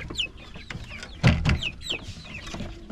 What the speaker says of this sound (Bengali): সোনালী মুরগি, অনেক বড় বড়ই হয়ে গেছে এগুলো।